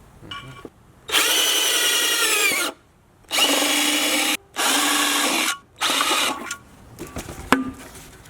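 A power drill bores pilot holes into the metal of a Miata spare tire wheel, loud and close, in four sustained whining bursts of one to two seconds each with short pauses, then a few brief stuttering pulses.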